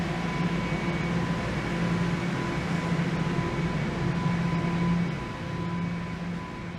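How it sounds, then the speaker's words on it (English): Continuous low rumble and hum inside a Toronto subway train on Yonge Street in motion, steady and loud, easing slightly near the end. "I'm going to hop on the train here"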